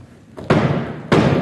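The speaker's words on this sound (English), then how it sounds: "Knock, knock, knock!" Two heavy, hollow knocks land on a door about half a second apart during a staged reading of Macbeth, loud and close with a short decay after each.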